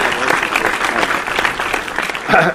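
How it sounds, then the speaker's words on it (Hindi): Steady audience applause at a 2023 international mushaira poetry gathering as a poet is welcomed to the stage, dense and continuous with a crowd swell near the end. "पुरजोर इस्तकबाल कीजिए बहुत तालियों के साथ"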